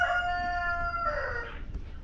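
A rooster crows close by in one loud, drawn-out call with strong harmonic bands, finishing in a rough, trailing tail.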